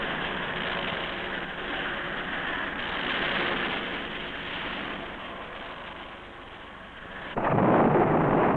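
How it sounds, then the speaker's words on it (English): Foul weather at a mountain base camp, with chill rain and high winds making a continuous heavy roar throughout, swelling louder near the end. "Back in base camp, the foul weather keeps up. Chill rain, snow, high winds."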